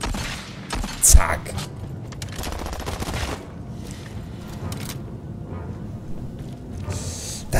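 Gunfire from the video game Aliens: Fireteam, a sharp loud burst near the start followed by ongoing rattling shots and busy combat noise, with someone talking over it.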